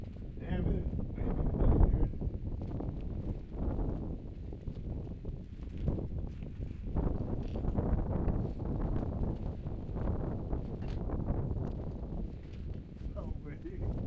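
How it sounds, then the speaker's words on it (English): Strong gusty wind buffets the microphone outdoors, a continuous low, rumbling roar that swells and eases in waves for the whole stretch. "So windy."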